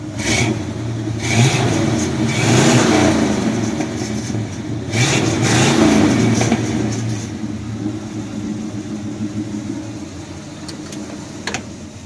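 A flooded Chevrolet 350 V8 engine in a 1978 Chevy C10 pickup revs hard and roars for several seconds, then settles into a rougher, quieter idle.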